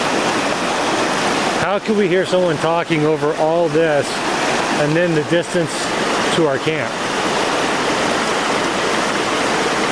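Steady rushing water of Sullivan Creek fills the whole clip, a constant broadband wash, with a person speaking close by over it for several seconds.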